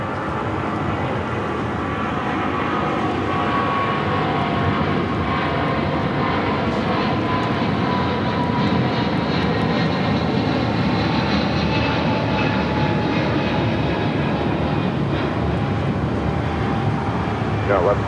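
A Boeing 777-200 jet bound for Honolulu taxis at LAX, its engines making a steady, loud broadband rumble and whine throughout, with voices talking over it.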